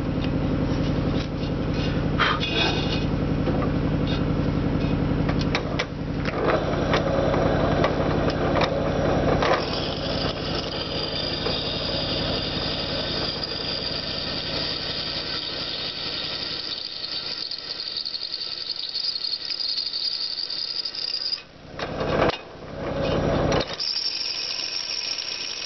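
A drill boring holes through a steel bushcraft knife blade, using a reground bit that jams slightly: a loud, continuous squealing grind with shifting pitch, easing briefly near the end before resuming.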